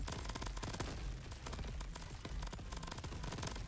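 Rapid, continuous gunfire from the video game Crab Champions: a dense, loud barrage of overlapping shots that never lets up, with no talking over it.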